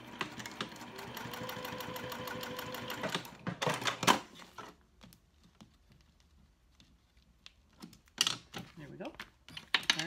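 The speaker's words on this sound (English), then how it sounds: "I'm gonna go ahead and sew that dummy stitch on the first line here" A sewing machine runs a fast, even burst of stitches through a vinyl wallet panel for about three seconds, then stops, leaving sparse clicks and handling noises in a quiet room.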